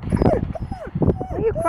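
Wolamute and Great Pyrenees mix dogs whine and whimper inside a car, close and loud, with high rising and falling cries, short yips and a person talking between them.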